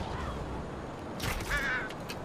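Birds cawing in the Far Cry Primal video game, a short distant call or two rising briefly over a low, steady outdoor ambience.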